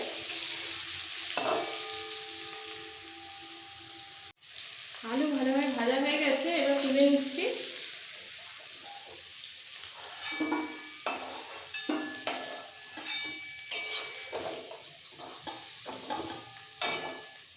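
Boiled potatoes fry in hot oil for a cabbage dish and are stirred with a utensil, giving soft sizzling and intermittent scraping and clinks over about eighteen seconds. A brief tonal passage sounds in the middle, with no talk.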